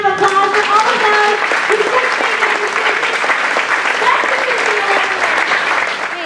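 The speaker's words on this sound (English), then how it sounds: "Would you just give a big round of applause for all of us?" Loud, steady applause from a church congregation fills the whole stretch, with cheering voices and some talk mixed into the dense clapping.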